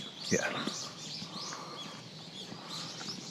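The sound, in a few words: birds calling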